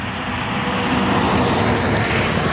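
Traffic on a large highway running past a pine forest makes a steady, loud broadband roar of passing vehicles with no breaks and no voices.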